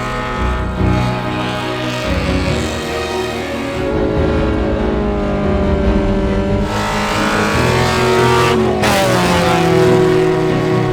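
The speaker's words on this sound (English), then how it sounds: "That Miata has maybe 90 horsepower at the crank, and it is just working so hard to get those freaking tracks up here." Mazda Miata fitted with snow tracks, about 90 horsepower, climbing a snowy mountain with its engine straining loudly and steadily, its pitch shifting as it works harder and then surging higher near the end.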